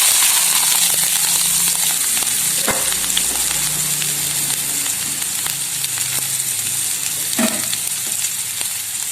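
Ginger-garlic paste hits hot oil in a pan for a Kerala-style prawn masala, producing a loud, constant close sizzle and crackle, with a couple of sharp knocks from a utensil.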